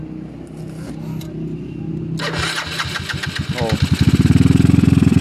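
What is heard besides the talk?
motorcycle kick-started, engine starting and revving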